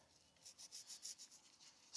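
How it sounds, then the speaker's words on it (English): Scotch-Brite sanding pad rubbed over the head surface of a Kohler V-twin Courage engine, giving a series of soft, even scrubbing strokes in a steady back-and-forth rhythm, close up and quiet, with no talking. "All right, I have my 3M sanding pad."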